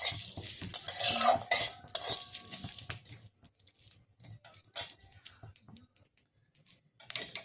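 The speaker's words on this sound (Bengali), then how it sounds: "গোটা জিরে, গোটা ধনে আর পানমৌরি সব দিয়ে একসাথে ভাজা মশলাটা তৈরি করতে হবে।" Whole cumin, coriander and fennel seeds stirred as they dry-roast in a pan, giving dense scraping and clinking of a utensil against metal for the first three seconds, then sparser light scrapes and taps.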